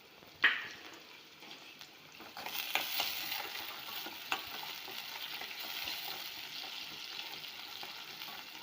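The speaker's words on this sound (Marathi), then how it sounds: "आता कांदा लालसर होईपर्यंत आपल्याला मस्त परतून घ्यायचं आहे." Onions sauté with a spoonful of salt in a pan, starting with a sharp clink, then a faint steady sizzle with occasional stirring scrapes, close and without voices.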